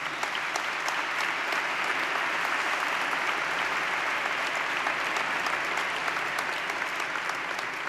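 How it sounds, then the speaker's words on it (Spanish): Sustained applause from a crowd at a Catholic youth congress lecture, given for filmmaker Juan Manuel Cotelo, a steady, unbroken roar of many hands clapping close by, with no talk over it. "un aplauso yo creo que se lo merece"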